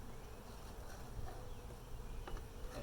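Agitated honeybees buzzing at an open hive while a super is being added, a steady, faint, dense hum with no voices.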